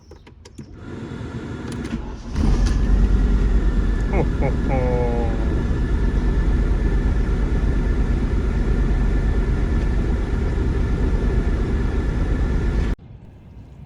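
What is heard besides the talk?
Audi S5 Coupe 1983 engine starting warm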